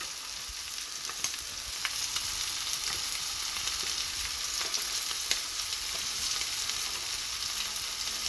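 Steak frying in a pan with garlic, a constant bright sizzle and crackle with occasional spatters and light tong or utensil clicks, close and unbroken, no voices.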